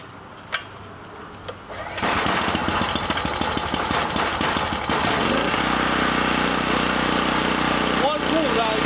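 A generator engine, choked and pull-started, whose quiet opening clicks give way at about two seconds to a loud, steady running roar with a dense mechanical rattle that continues to the end, close by.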